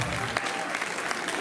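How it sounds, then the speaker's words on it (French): A crowd at a community section party claps for volunteer singers, brisk dense applause filling the short moment. "Et ils méritent un applaudissement"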